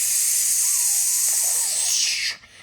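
A voice imitating steam hissing from a pressure cooker valve: a sustained airy hiss lasting about two seconds, then cutting off abruptly into quiet.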